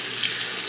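Tap water runs steadily from a faucet into a sink during handwashing, a continuous close hiss with no talk.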